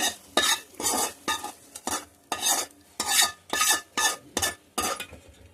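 Fried vegetables for upma are stirred in a pot of boiling water in about a dozen rhythmic, loud scraping and splashing strokes, each a short burst with brief pauses between; no voices.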